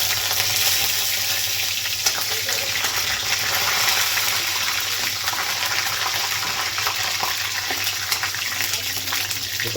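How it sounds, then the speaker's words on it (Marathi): Curry leaves crackle and fry in hot oil for a tempering before chicken rassa, a dense continuous sizzle with scattered small pops heard close up. "हे गरम झालेलं आता थोडंसं याच्यामध्ये फोडणीसाठी कढीपत्ता टाकूया आपण."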